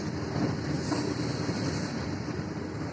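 A train passes a level crossing, a steady, close, continuous rumble and rattle of rail wagons filling the whole moment with no voices.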